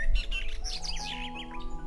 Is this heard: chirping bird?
yes